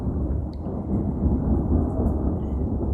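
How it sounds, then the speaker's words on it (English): Low, continuous rumbling thunder rolls through a storm that has mostly stopped raining, a deep steady roar that holds for several seconds with no talking over it. "I really like the sound of thunder though."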